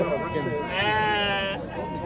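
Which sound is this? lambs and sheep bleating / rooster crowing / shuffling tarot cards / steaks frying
lambs and sheep bleating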